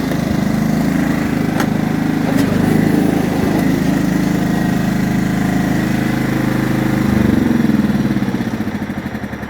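A tractor engine runs steadily with a loud, throbbing low rumble, rising briefly near the end before winding down, with faint clicks over it and no talking.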